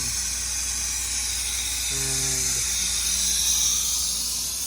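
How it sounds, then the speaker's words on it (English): A vacuum tool sucks the air out of the cooling system of a 2017 Alfa Romeo Giulia 2.0L during a radiator replacement, producing a loud, steady, unbroken hiss throughout, with a brief low tonal hum partway through. "It's still creating vacuum, and as you can tell, it's sucking all the air out of the cooling system"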